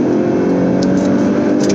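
A car pulls away and revs up toward 6,000 rpm, a loud steady engine drone with strong low harmonics running throughout, close and continuous with no talking.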